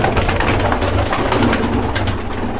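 Many pigeons, including black-tipped Kala Pitho fancy birds, coo continuously in a loft, a dense, loud, overlapping murmur of calls with fluttering and shuffling throughout and no talk.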